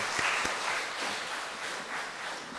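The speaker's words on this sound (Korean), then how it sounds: "우리 하나님께 영광의 박수 올려드리도록 하겠습니다" Congregation clapping during a church praise worship service, a steady wash of applause with no voices over it.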